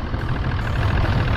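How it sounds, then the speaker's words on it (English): A boat's engine runs steadily and close by while out salmon fishing, a constant low rumble with a continuous hum and no break or change in pitch. "Excuse the engine noise."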